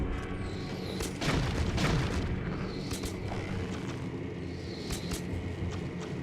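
An explosion in the Zelda game Twilight Princess on GameCube: a loud booming blast with a rumbling tail, followed by fainter bursts and sparkling game effects, with no talking.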